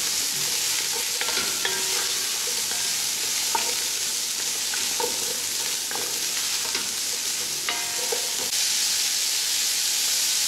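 Peeled, cut carrots frying in oil in a pot for beer-braised beef short ribs, a steady loud sizzle with intermittent scraping stirs of a spoon through the pot, no talking.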